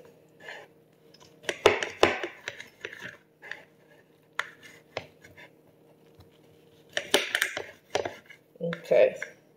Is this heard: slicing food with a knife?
yes